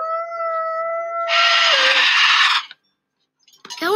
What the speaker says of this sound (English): And here's howling.